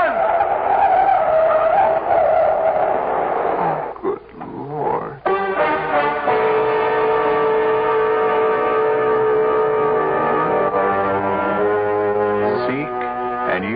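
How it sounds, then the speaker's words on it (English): A truck skids in a radio drama sound effect: a long, loud tire screech that dips briefly, then returns as a sustained, tonal squeal lasting many seconds. "Farrar, look out! That truck!"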